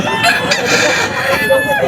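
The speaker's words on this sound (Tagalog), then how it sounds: "Yung manok ni Boss Dama" A rooster crows loudly and close by at a grotto pet market, with clucking from other fowl around it and faint talk in the background.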